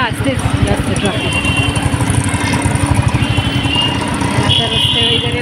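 Busy road traffic between Kharegaon and Airoli, with motorcycles and cars rumbling and clattering past close by, a loud continuous engine drone and occasional horn tones.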